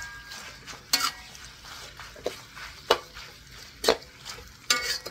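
Pad thai noodles stirred in a pan over a butane stove: a series of scraping, clattering strokes roughly once a second over a soft, steady sizzle, fairly close and with no talking.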